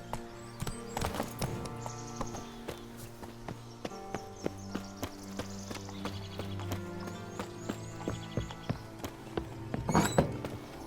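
Horse hooves clip-clop in a steady galloping rhythm in The Witcher 3, fairly close, over a layered game music bed with a brief louder burst of hoofbeats near the end.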